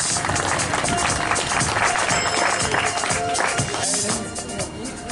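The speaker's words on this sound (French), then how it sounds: "On peut l'applaudir." Audience applause at an association event in a room, loud dense clapping from many people, sustained and then tapering slightly at the end.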